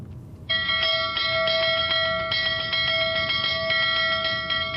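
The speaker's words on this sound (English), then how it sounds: "Fleet rings the warning bell 3 times and telephones the bridge." A ship's warning bell aboard the Titanic rings out loud and close, sustained ringing tones with a fresh strike partway through over a rumbling background.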